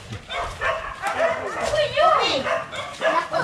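Dogs at an animal shelter in Alor Setar yelp and whimper in a quick, excited tangle of high-pitched cries, close by and fairly loud, with voices mixed in.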